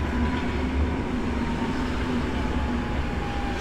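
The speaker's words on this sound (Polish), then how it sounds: "Znowu widzimy pociąg spółki Polregio z Kielc Głównych tutaj przyjechał" Polregio regional passenger train from Kielce at Sosnowiec Główny station, a steady loud low rumble of the train moving with a faint sustained tone, close by and unbroken throughout.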